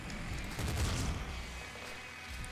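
In the video game Nuclear Throne the player character explodes: a burst of dense, rumbling explosive noise that peaks briefly, then fades into continuous game background sound.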